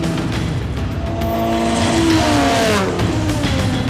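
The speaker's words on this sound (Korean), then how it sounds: "다른 차들이 몇 바퀴째 돌고 있는데" Race cars circle a track, engines rising and falling in pitch as they pass, with a loud sustained roar and a few high whining sweeps from cars going by.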